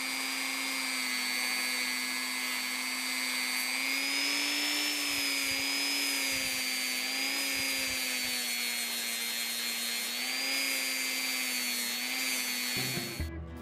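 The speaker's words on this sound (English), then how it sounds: "Then I went after it with the scrubby wheels." A scrubby abrasive wheel buffing the metal lanyard loop of a Camillus TL-29 pocket knife, a continuous whirring hum with a steady grinding hiss, wavering slightly in pitch and running alone with no talking.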